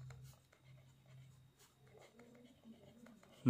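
Pen scratching across paper while working a probability exercise in a maths lesson, with soft, faint strokes and brief pauses over a low background hum, ending in a sharper tap.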